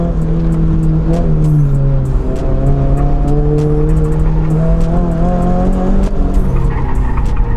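A Toyota 86 racing at an autocross, its engine loud and close, revving up and down through the run while the tires squeal through the turns; no talking.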